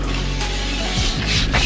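Steady scratchy rubbing of sandpaper on wood by hand, continuous and close, with a few rhythmic strokes toward the end.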